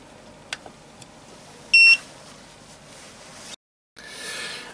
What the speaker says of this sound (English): it'll beep when it actually gets to that temperature.